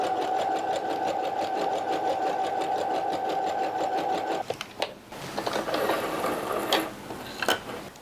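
A sewing machine runs in a steady, close, continuous whir as it stitches in the sides of a button-down shirt, then stops, leaving a few soft handling clicks and rustles.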